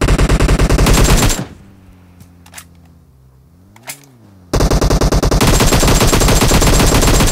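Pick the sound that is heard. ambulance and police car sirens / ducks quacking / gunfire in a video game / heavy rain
gunfire in a video game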